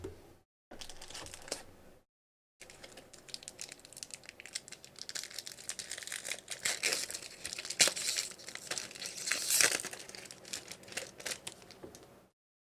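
Crinkling and tearing of a Magic: The Gathering booster pack wrapper from Guilds of Ravnica or Ravnica Allegiance, close and fairly quiet, in uneven crackling bursts with brief silent gaps.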